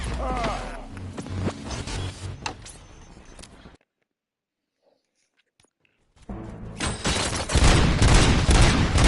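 Bursts of rapid gunfire and impacts in the Robocop video game, loud and close, cut off by a few seconds of near silence before the shooting resumes even louder.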